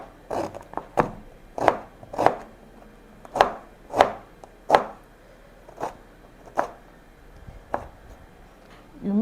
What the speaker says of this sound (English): Get your ginger, you pieces it this way.